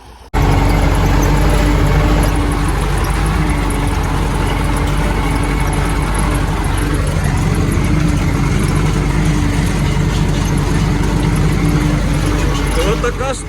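A combined cultivator's engine runs steadily with a constant mid-to-low drone close by during testing, without a break for the whole stretch.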